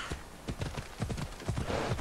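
Horse hooves clop in Assassin's Creed Odyssey as a rider moves through ancient Greece on horseback, a steady, close, rhythmic trot of sharp hoof strikes carrying on throughout.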